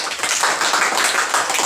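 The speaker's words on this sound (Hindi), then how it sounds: "तालियों के साथ स्वागत कीजिए सवाल ही जवाब का।" Classroom clapping to welcome the start of a lesson segment, a steady dense patter of many hands for under two seconds, with no talking over it.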